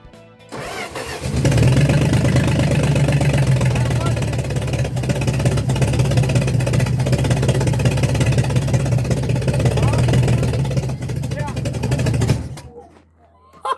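A 1966 Dodge Dart engine with no exhaust fitted starts and idles roughly for about ten seconds, a loud, raw, steady harsh rumble with no muffling, then cuts off.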